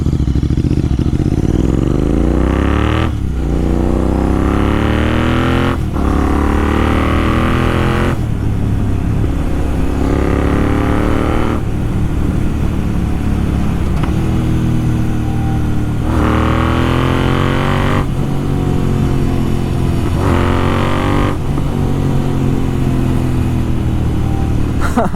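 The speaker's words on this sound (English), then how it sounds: "now I'll do a short ride on my bike and I'll show it to you guys how does my bike sound" A Royal Enfield Interceptor 650 fitted with an aftermarket Red Rooster exhaust is ridden through the gears, its loud, close engine note climbing and dropping in repeated waves with brief pauses at each shift, and no talking.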